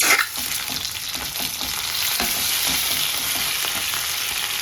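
Cumin seeds and boiled potato sauté in a pan for khichdi, a steady, close sizzle with a few brief stirring scrapes and no talking.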